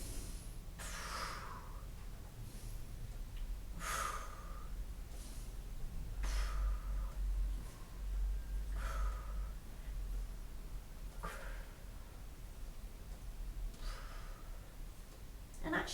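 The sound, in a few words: breathing during an exercise workout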